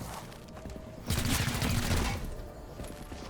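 Gunfire in the tactical game XCOM Chimera Squad as the commando is targeted: a short, loud burst of rapid rattling shots breaks in about a third of the way through, with quieter game ambience before and after.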